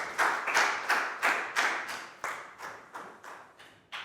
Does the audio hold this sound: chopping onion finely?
no